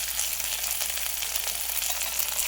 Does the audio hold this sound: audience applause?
no